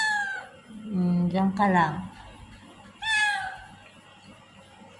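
A cat meows a few times up close, a drawn-out cry followed by a shorter one, while someone speaks softly nearby.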